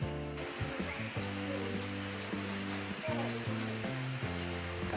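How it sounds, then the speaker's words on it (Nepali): Heavy rain pours at Cattai Campground, a steady hiss of rainfall and patter on surfaces running beneath people talking close by throughout. "पानी धेरै पऱ्यो कि हजुर"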